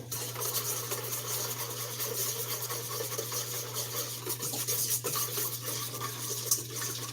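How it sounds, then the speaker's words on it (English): A stiff brown sugar mixture is whisked vigorously by hand in a bowl, giving a steady, close scraping and rubbing texture that continues without pause over a low constant hum, with no talking. "whisk vigorously until well blended. So let me do that. And it is a little stiff because of the brown sugar."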